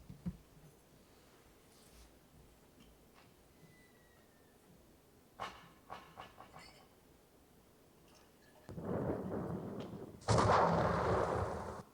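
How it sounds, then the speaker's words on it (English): A battery blowing up inside a test container with a flimsy plastic blast wall: faint ticks and sharp pops build up, then a dense hissing rush of venting bursts out loud, followed by a second, stronger violent blast. "You're looking at the heart of an explosion"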